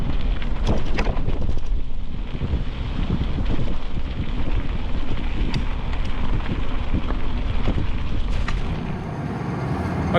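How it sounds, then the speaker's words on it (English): An outdoor conveyor belt carrying bauxite near Dwellingup runs with a steady, loud broadband rumble and hiss that stays constant throughout, with faint knocks and clicks scattered on top and no talking. "That's a conveyor belt, and it's taking bauxite on a conveyor"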